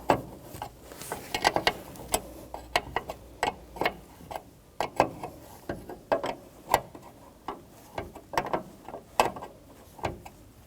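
Wrench ratcheting and clicking on a brake line fitting at the master cylinder of a 2007-2017 Jeep Patriot, a steady series of short, close metallic ticks with light clanks in an uneven rhythm.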